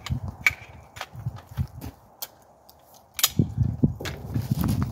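Metal parts of a Palmetto PA-10 Gen 3 AR-10 rifle with a 16-inch upper click and snap together during assembly, a series of sharp close clacks and knocks with short gaps between them.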